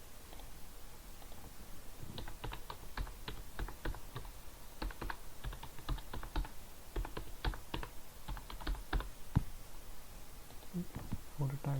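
Someone types a web address on a computer keyboard, bursts of quick close clicking keystrokes with short pauses, and light background noise throughout.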